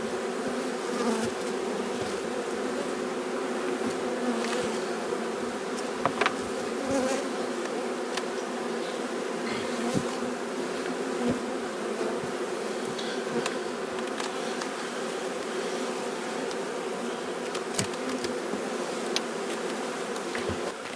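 Honey bees buzz steadily around an open hive during a late-season inspection in Newfoundland, a dense continuous drone with individual insects flitting close by, with no talking.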